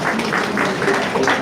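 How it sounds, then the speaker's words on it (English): An audience at a Nigerian Society of Engineers Ikeja Branch event claps in a dense, brief burst of applause. "applaud ourselves?"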